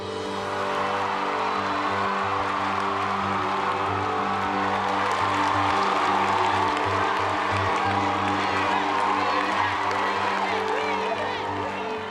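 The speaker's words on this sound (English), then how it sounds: "People were screaming and cheering and going, Jaws, Jaws, Jaws," A packed San Diego Comic-Con 2013 convention hall roars with a constant wall of screaming, cheering and crowd noise that never lets up.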